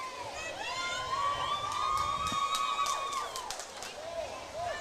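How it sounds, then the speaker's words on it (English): Crowd cheering and shouting in a packed grandstand at the Valley Pool during a schoolgirls' water polo grand final, a steady excited roar with whistles and high calls, with a commentator's voice over the top. "Fantastic crowd in the grandstand here."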